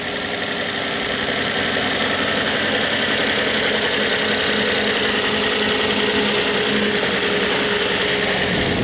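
Car engine idling just after being cranked, a loud, steady mid-pitched running drone with faint knocking vibration, continuous throughout after a brief rise at the start, with no talking.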